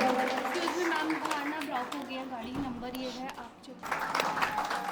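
Audience at a preschool annual day event claps in a dense, steady burst of applause lasting several seconds, with a host's voice speaking over it and a brief dip before the clapping swells again.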